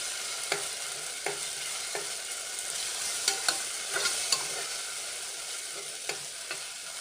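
Spice tempering sizzles and fries in a pan for chicken dum biryani gravy, an even hiss broken by regular light stirring clicks from a spoon, close and alone.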